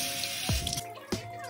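A sink tap runs briefly to wet a paper towel, water splashing close and clear with a couple of sharp gushes against the basin.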